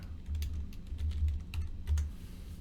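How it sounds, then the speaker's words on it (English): Quick keystrokes on a Chromebook keyboard while typing a search, a run of close, soft clicks in uneven bursts over a steady low hum, with no voices. "If I could type."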